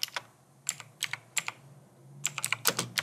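Keys on a computer keyboard clatter in short irregular bursts of close, crisp taps, with a brief lull in the middle before a quicker flurry of typing.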